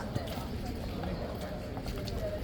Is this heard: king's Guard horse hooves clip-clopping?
yes